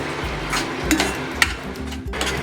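Condensed milk is stirred into carrot halwa in a pan, with soft scraping and a few light metallic clinks from a spoon against the pan. The sounds come close and fairly quiet, with no talk.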